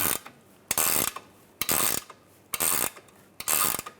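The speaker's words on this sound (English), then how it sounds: "I'm going to use a 6mm hex in the center to keep the stud from spinning, and just tighten this down" A wrench tightening a nut on a steering rack tie-rod stud of a 1998-2010 Volkswagen Beetle during power steering rack replacement, with five loud, close bursts of ratcheting clicks separated by short pauses.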